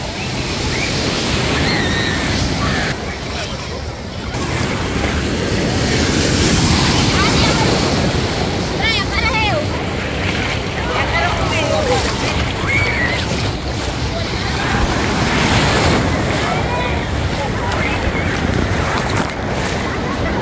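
South Atlantic surf at Copacabana Beach in Rio de Janeiro, a loud, continuous wash of breaking waves close by, roughened by gusty wind buffeting the microphone, with no pauses over the whole stretch.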